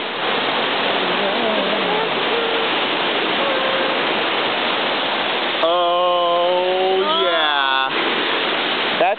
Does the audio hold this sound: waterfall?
yes